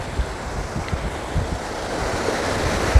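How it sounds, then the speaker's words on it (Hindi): A clear, clean mountain river flows past with a continuous rushing, wave-like wash, loud and close, with gusts of wind buffeting the microphone and no voices. "पानी चल रहा है और ये कितना साफ़ सुथरा पानी है"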